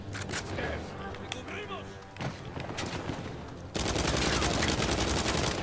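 Video game gunfire from Uncharted 4: a few sharp shots early on over background game noise, then a loud, sustained burst of rapid firing that runs to the end.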